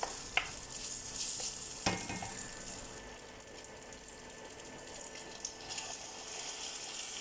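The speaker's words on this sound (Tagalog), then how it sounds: "Pagisa muna tayo yung ham." Ham sautéing in a pan for a carbonara mushroom pasta, a continuous soft sizzle with a few sharp stirring clinks near the start and no talking.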